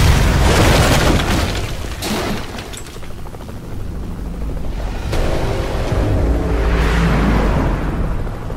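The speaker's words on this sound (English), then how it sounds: "Oh, missiles!" Missile explosions in the Metal Gear Solid V video game, loud continuous rumbling booms that swell, dip and swell again across the whole stretch, with no talk over them.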